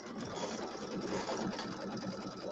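A sewing machine runs steadily, stitching down a double-folded quarter-inch hem on a Halloween settee pillow, its fast even whir close and continuous with no pauses.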